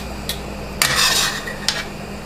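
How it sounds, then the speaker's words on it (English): Cooked al dente bucatini pasta is strained into another bowl in a kitchen, with a sharp metal clank, a rushing pour and clatter of pot against bowl, then another knock, loud and close. "so strain it into another bowl"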